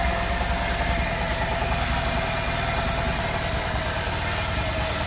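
A Bajaj CT100 motorcycle with a freshly rebuilt BS6 engine idles steadily after starting, a continuous close, low mechanical rumble with even pulsing and no voices.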